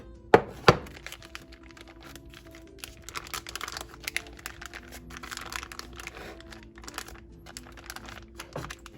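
A plastic bag holding marinating steak crinkles and rustles up close as the air is pressed out and it is sealed, opening with a couple of sharp snaps and then continuing in soft, irregular crackles.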